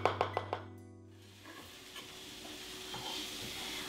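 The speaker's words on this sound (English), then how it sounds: "I'll start sauteing the onions" Onions sautéing in olive oil in a home kitchen pan: a few sharp utensil knocks at the start, then a steady soft sizzle with occasional stirring scrapes, close and moderately quiet.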